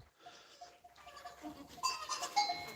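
Goats bleat on a farm where the pregnant herd is kept, several faint overlapping calls that grow louder toward the end over low background noise, with no talk.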